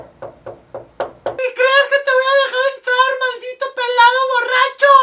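A drunk man arriving home late knocks on a house door, four or five sharp raps heard alone, followed at once by a high, animated voice talking in a comic story.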